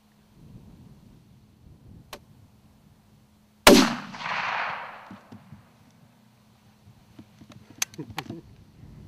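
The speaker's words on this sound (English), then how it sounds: "I just shot the 400-yard target." A single loud rifle shot cracks close by at a long-range 400-yard target, followed by a rolling echo that fades over a couple of seconds, with faint handling clicks before and after.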